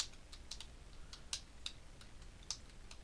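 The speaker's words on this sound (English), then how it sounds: "type Microsoft" Light typing on a computer keyboard while entering a folder name, a handful of sparse, crisp key clicks spaced irregularly over a quiet room background.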